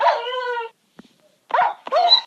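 A tamed dog in the video game Minecraft barks while attacking a wolf: a drawn-out whining bark, a brief pause with small clicks, then two quick sharp barks close and loud.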